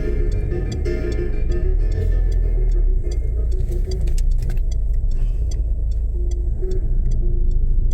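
A Citroen C3 with failed electric power steering drives along, giving a loud, steady low interior rumble with a regular ticking running through it.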